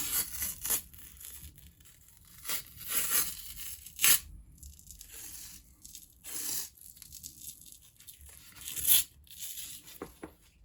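Old adhesive tape is peeled off a British Army M58 canteen in short, crackly rips, several bursts separated by quiet pauses, close and fairly soft.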